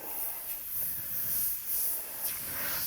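An airbrush sprays paint in sweeping pinwheel strokes, giving a steady soft hiss that swells and fades in gentle waves, close and fairly quiet, with no talking.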